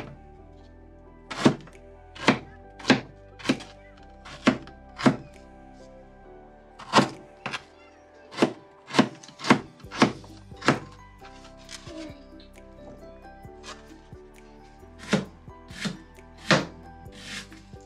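A knife chops onions on a board in a home kitchen while pulao and meat are being prepared. About twenty sharp, close thunks come in uneven bursts with short pauses between, over a quiet background.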